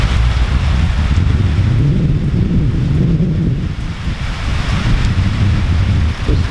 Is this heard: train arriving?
no